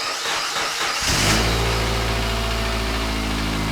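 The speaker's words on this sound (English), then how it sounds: "So our car is fired up now" A Subaru car engine cranks and catches after a second of quiet, then settles into a loud, steady close-up idle with a constant low drone.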